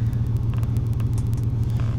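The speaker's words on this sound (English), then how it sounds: "Let me go ahead and turn on the truck for y'all." A truck engine idling just after starting, a steady close low rumble with a throbbing pulse and faint clicks over it.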